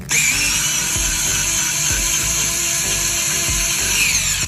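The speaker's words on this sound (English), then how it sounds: "now I can push the box into the wall, and then I can tighten these screws." A power driver tightens electrical box clamp screws against drywall, a loud, steady whirring close by that runs the whole time with a few faint ticks under it.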